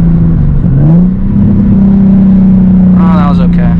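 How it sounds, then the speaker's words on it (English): A car engine drones steadily with a brief rise and dip in pitch during downshifts while driving on the street, loud and close, with a voice faintly audible near the end. "So all right, let's get some downshifts."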